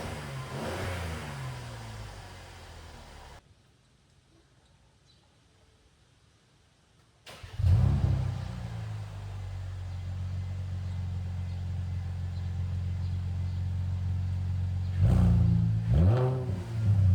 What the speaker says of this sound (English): give it a startup and some revs